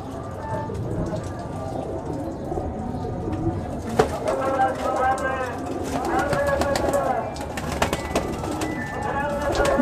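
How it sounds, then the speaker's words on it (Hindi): A breeder pigeon coos in a loft, soft repeated coos running steadily beneath someone talking nearby, with a few sharp knocks and rustles. "ये ब्रीडर कबूतर है कप्तान जी"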